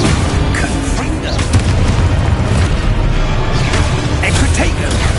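Confringo fire spell explosions booming in Hogwarts Legacy, dense continuous blasts and bursts filling the whole stretch, loud and close, with a voice speaking over the chaos.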